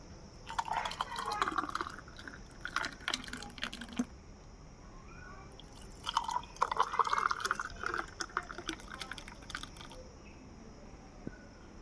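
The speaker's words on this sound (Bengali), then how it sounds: "আমি শরবতটা ঢেলে দেবো গেলাসে" Palm fruit sherbet made with tender palm kernels is poured into drinking glasses in two bursts, splashing and gurgling up close between quieter pauses, with faint kitchen clinks.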